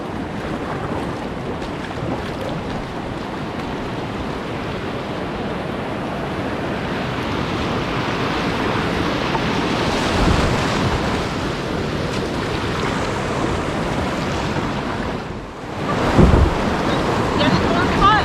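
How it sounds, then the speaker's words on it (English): River rapids on the Little Conemaugh, a continuous loud rushing roar of whitewater close by, with wind buffeting and boat-handling noise; a brief bump and splash near the end. "slowly but surely, we started to encounter a little bit steeper gradient and a little bit more frequent rapids"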